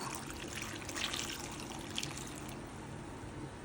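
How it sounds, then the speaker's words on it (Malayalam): Water is poured into a cooking pot while making Kerala moru curry, heard as a faint, continuous trickle and splash with small swells partway through. "ഒരു 3 ഗ്ലാസ് വെള്ളം വാർന്നു കൊടുക്കുക."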